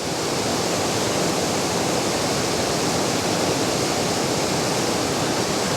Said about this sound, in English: I'm going to focus on the waterfall